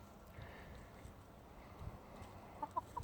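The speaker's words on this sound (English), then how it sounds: "Rooster just chilling." A rooster in a backyard flock with newly introduced chicks gives a few faint, soft clucks near the end over quiet outdoor background noise.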